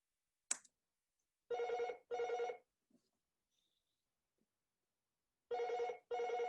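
A telephone rings during a graduate school workshop presentation, two pairs of close, clear electronic rings separated by a pause, with a short click beforehand and otherwise quiet.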